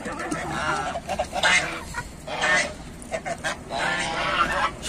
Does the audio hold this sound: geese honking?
yes